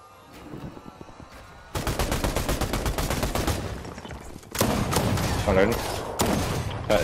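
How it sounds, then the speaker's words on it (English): Rapid automatic gunfire in a Fortnite duos match, shots fired through an opponent's builds, dense loud bursts of rattling fire with brief pauses between volleys, a voice speaking faintly beneath. "I'm shooting through his builds."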